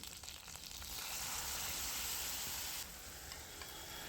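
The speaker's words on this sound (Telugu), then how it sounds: "కరివేపాకు కూడా వేసుకుని వేయించేసుకోవాలి ఈ పోపు అంతా దోరగా వేయ వేగాలి" Steady hissing sizzle of tempering spices and curry leaves frying in hot oil, loud and close, with a brief surge in the middle and no voices.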